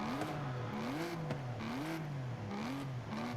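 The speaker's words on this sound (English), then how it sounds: "This V12 doesn't sound like a Lambo V12." V12 engine revving repeatedly in Forza Horizon 5, a series of quick rising and falling throttle blips with a whirring tone, fairly quiet and steady, no voices.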